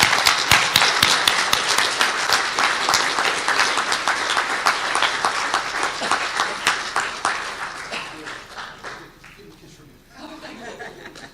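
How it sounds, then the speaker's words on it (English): Audience applauding at a Guild of One-Name Studies annual general meeting for an award, steady clapping from a room full of people with a few chuckles, fading slightly toward the end. "if we can give David a round of applause in his absence for that award"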